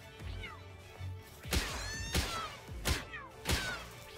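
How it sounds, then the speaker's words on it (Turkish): Faint cat meows come from the video game Palworld, repeated in short upward-curving cries that are mixed with sharp thumps and whacks of game combat, all quiet and close. "Kedi sesi geliyor."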